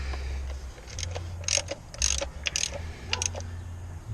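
Ratchet wrench clicking in short bursts while tightening an ignition coil bolt on a 2012 Nissan Versa, close metallic ticks over a low engine-bay hum, several quick rounds of cranking.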